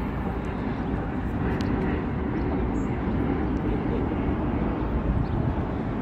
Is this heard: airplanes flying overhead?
yes